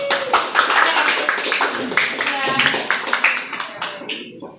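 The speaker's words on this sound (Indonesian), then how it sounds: "Tepuk tangan dulu." A high school class claps hands together in a classroom, a burst of close, sharp, uneven clapping that thins out toward the end, with voices mixed in beneath it.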